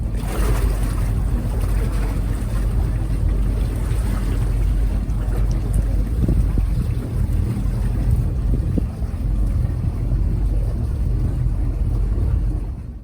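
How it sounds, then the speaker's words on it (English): Marine engines on the vessel MV Thirsty Whale idle steadily as a continuous low rumble with wind and water noise, warming up after a weed wash test, without speech. "just gonna let the engines run just a little bit longer, just so they get nice and warm"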